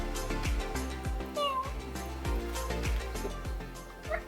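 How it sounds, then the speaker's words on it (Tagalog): Cat meowing a couple of times, close but fairly quiet, among rhythmic thumping background sounds and some faint voices. "Naku yung pusa, wait lang."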